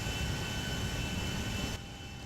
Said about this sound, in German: Triebwerk rauf.